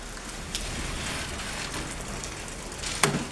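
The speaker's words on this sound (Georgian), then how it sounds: "ცოტა სეტყვაცა" Small hailstones fall steadily in a continuous patter, with a couple of sharper impacts standing out, including one loud close hit near the end.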